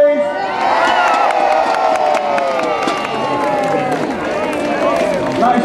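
Outdoor crowd cheering and whooping loudly for arriving Paralympian athletes at a public welcome event in a town square in Hereford, UK; sustained roar with shouts and children's voices, steady throughout.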